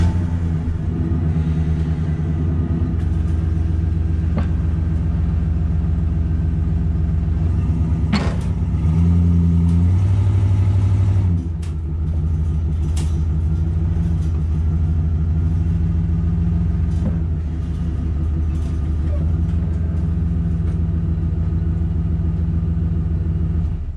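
A truck engine idles and rumbles steadily, rising in a brief louder rev midway as the vehicle pulls on a rope tied with a bowline, then settling back to a continuous drone.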